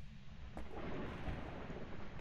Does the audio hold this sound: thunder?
yes